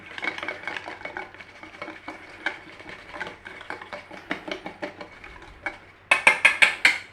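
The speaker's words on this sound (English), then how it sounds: "Let's have our glaze whisked up in there." Wire whisk beating glaze in a mixing bowl for roast parsnips, a steady run of quick scraping, clinking strokes against the bowl, close and moderately loud, ending in a few sharper, brighter taps.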